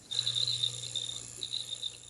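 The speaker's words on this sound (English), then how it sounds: "You got very loud crickets there, Gene." Loud, steady cricket chirping in an Arizona setting, a continuous high trill with a faint low hum beneath it and no voices.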